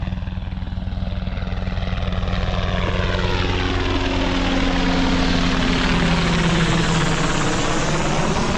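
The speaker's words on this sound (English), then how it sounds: "We got the flyby." Aircraft flying low over a small skiff fishing for deep-water rockfish at the 9 Mile Bank off San Diego, a loud steady propeller and engine roar that swells and shifts pitch as it passes overhead.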